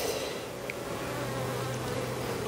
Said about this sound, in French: Ça c'est un essaim, pourtant il était bien.